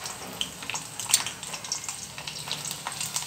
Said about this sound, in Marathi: सगळ्यात आधी टाकूया लसूण,